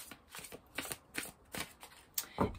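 A deck of tarot cards is shuffled by hand in a quiet room. Short papery riffle bursts repeat at an irregular pace, close and fairly soft.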